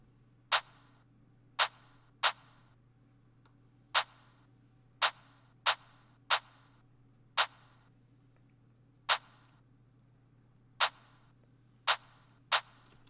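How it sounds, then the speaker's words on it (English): Two layered snare samples in an FL Studio beat strike together as sharp, bright hits, about eleven in an uneven rhythm over a low steady hum, with no voices. "I added 2 snares that hit on the same time."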